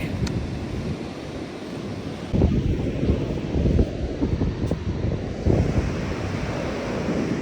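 Ocean waves washing over a rocky beach in Cape Town, a continuous close roar of surf with swells rising and falling, mixed with gusty wind buffeting the microphone, no voices.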